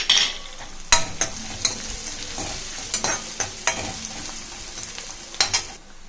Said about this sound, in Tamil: இப்போ கருவேப்பிலை பச்சை மிளகாய் ஆட் பண்ணிக்கோங்க.